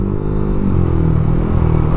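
A motorcycle engine idles and runs steadily up close, a dense low rumble with a constant throb and no pauses or talking over it.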